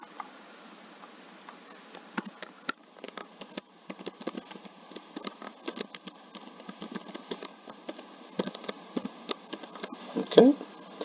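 Light tapping on a computer keyboard while axis titles are entered in an Excel chart, with soft irregular clicks under a quiet voice.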